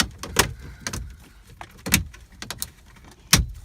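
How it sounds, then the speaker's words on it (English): A car door trim ring being pried off with a plastic nylon tool, giving a series of sharp plastic snaps and cracks with quieter scraping and rattling between them, close and loud. "So first we're gonna pop off the trim ring."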